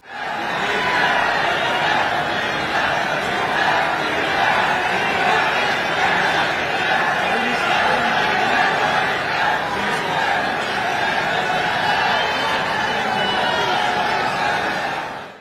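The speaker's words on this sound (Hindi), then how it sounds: "वातावरण चारों तरफ तालियों की गड़गड़ाहट और नारों से गूंजने लगता है" A large political rally crowd for a Chhattisgarh BJP event roars with continuous applause and shouted slogans, a dense, loud wash of many voices holding steady throughout.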